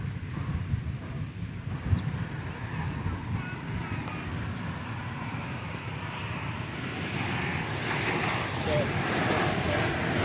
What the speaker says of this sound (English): We have a Delta flight arriving now from Minneapolis, St. Paul